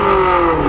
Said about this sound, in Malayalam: അപ്പോൾ ഇതിൻ്റെ എക്സോസ്റ്റ് രക്ഷയില്ല.